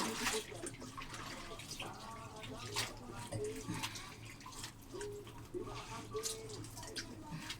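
White laundry is washed and soaked by hand, with splashing, sloshing and trickling water in uneven bursts close by, while a person talks over it and faint birds sound in the background.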